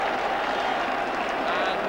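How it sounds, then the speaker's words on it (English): Rugby cup final crowd, Leicester supporters, applauding in a large stadium, a dense steady wash of clapping heard from a distance for the whole stretch, with a commentator talking over it. "the Leicester supporters applaud the decision"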